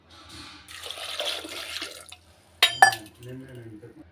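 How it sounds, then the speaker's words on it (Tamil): Water splashes and runs into a pot of lentils for a couple of seconds, followed by a few clinks and a voice talking nearby. "பருப்பு வேகிற அளவுக்கு தண்ணி சேர்த்துக்கலாம்"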